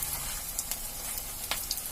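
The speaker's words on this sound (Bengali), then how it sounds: "তাই কড়াইতে বড়া দিয়ে দিলাম।" Taro leaf fritters in gram flour batter frying in mustard oil in a wok, a steady close sizzle with a few brief pops and crackles and no talking.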